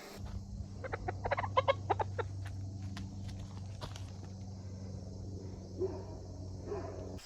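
A limping hen clucks in a short cluster of calls early on, then goes quiet against a steady low hum and faint background noise.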